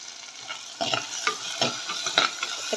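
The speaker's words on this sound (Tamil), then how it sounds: "பூண்டு வதங்குது. தக்காளி போட்டிருக்கேன்." Garlic and tomatoes sauté in a pan for a fish curry, a continuous close sizzle broken by repeated stirring scrapes at an uneven rhythm.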